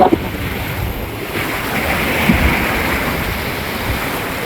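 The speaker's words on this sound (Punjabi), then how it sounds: "ਪਾਣੀ ਦਾ ਵਾਹ ਦੇਖੋ" Floodwater in Punjab rushes in a continuous, broad roar after heavy rainfall, with wind buffeting the microphone; no voices.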